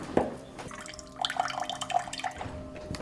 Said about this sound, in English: And cold water pressure in the kitchen.